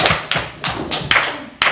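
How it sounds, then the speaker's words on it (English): Hands clap in a two-person clapping game, six sharp, loud claps in a quick, slightly uneven rhythm, each ringing briefly before the next. "we do this clap together"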